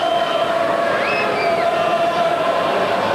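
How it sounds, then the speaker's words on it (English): Steady hubbub of a small crowd of about 2,000 at a 1995 Rugby World Cup match between Scotland and Ivory Coast, a continuous distant murmur with a few whistles and raised voices rising above it, no loud cheering burst. "The constant hubbub in the crowd, it really has been the most wonderful atmosphere"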